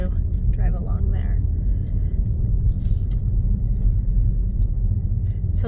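A car drives along a road around Kapaa, heard from inside as a loud, continuous low rumble of engine and tyres with no pauses.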